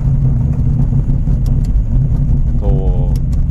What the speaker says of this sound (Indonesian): langsung exhaust sistemnya suaranya pop and back